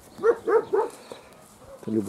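A dog barks three times in quick succession, fairly close, followed by quieter background noise and a low voice near the end.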